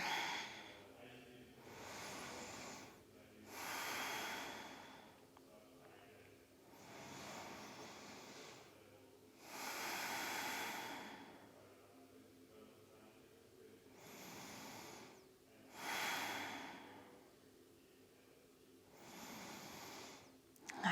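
Slow, quiet breaths during a seated yoga hip stretch, about five cycles of long airy inhales and exhales, close and soft, evenly spaced in a calm room.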